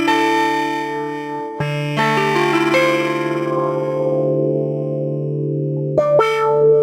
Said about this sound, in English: Then I'm going to plug my harp into Kiwami and use an expression pedal